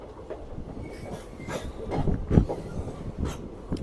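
A train rolls into New Mal Junction in North Bengal, a low rumble with soft wheel clatter and a sharper clank or squeal near the middle, heard at moderate distance with no voices.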